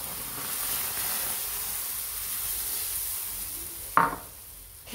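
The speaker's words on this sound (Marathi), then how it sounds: "आता आपण तवा तापलेला आहे, तेल टाकून घेतलेलं आहे. त्याच्यामध्ये बेसन पीठ टाकून घेणार आहोत." Gram flour tipped into a hot, oiled griddle pan, a steady soft sizzle and hiss, then a sharp brief burst of sizzle near the end, close and with no talk.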